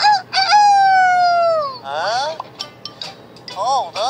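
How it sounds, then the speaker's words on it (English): A rooster crows in a long, drawn-out cock-a-doodle-doo, followed by a few shorter clucking calls, loud and close. It plays as a sound effect in a children's show. "This one sounded like a rooster."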